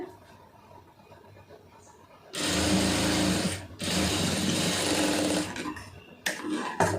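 Sewing machine stitching a lined blouse, running in two loud close bursts of rapid whirring separated by a brief pause, with quieter handling noises before and after.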